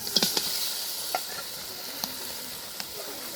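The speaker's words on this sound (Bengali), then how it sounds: "এই যে এখন মাংসগুলো দিয়ে আরো ভালোভাবে কষিয়ে নেবে" Meat sizzles as it fries with spices in a pan, a steady close hiss broken by a few sharp clinks of stirring.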